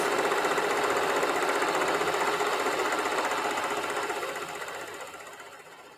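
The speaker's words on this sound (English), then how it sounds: "I'm up here sewing fast." A domestic sewing machine stitches fast on jelly roll fabric strips for placemats, a steady close mechanical whir with rapid regular needle chatter that runs continuously and slowly fades toward the end, with no talking.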